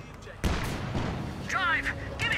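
Gunfire and artillery from the World War II strategy game Company of Heroes 2 crack out in sharp bursts, loud and close, with a voice talking over the battle.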